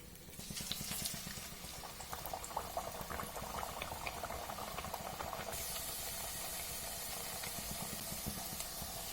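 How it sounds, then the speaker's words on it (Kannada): Nippattu, a crisp rice snack, frying in hot oil: a steady, dense bubbling sizzle that swells just after the start and holds evenly throughout, with no talking. "ಈಗ ಎಣ್ಣೆ ಬಿಸಿಯಾಗಿದೆ, ಎಣ್ಣೆನಲ್ಲಿ ಈಗ ಬಿಡೋಣ ನಿಪ್ಪಟ್ಟು."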